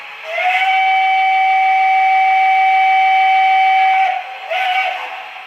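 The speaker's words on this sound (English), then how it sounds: "Alright, let's hear the whistle." A model Pennsylvania Railroad steam locomotive whistle blows one long, steady, loud chime of about three and a half seconds, then gives a short second toot.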